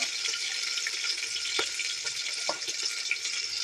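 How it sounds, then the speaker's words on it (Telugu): Onions sizzling and frying in a pan while cooking ridge gourd dal, a steady crackling hiss with a few soft clicks of stirring, moderately close and with no talk. "ఆనియన్స్ వేసుకుంటున్నాను"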